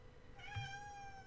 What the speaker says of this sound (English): You hear that? That's my cat back there.